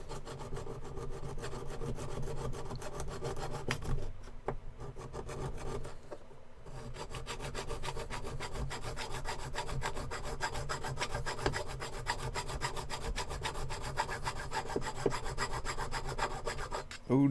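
Repeated rasping strokes of hand sanding a wooden knife handle, a steady back-and-forth scratching rhythm with a couple of brief pauses, close and fairly quiet.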